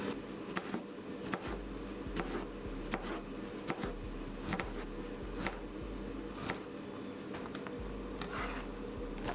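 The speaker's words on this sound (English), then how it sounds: "we're gonna cut it this way for broths and soups" A kitchen knife chops vegetables on a board while preparing chanko nabe sumo stew, with a steady series of crisp, close cuts repeating throughout.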